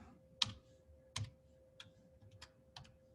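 Several light, separate keystrokes on a computer keyboard as an equation is entered into the Desmos graphing calculator, spaced unevenly across a few seconds with no talking.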